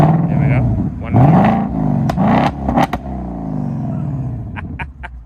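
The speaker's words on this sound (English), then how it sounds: "that's what the active exhaust sounds like on a 2024 Mustang GT, the S650 Mustang" The V8 of a 2024 Ford Mustang GT S650, fitted with active exhaust, revs up twice, loud and close, and then settles into a burbling idle with exhaust pops. Someone talks over part of it.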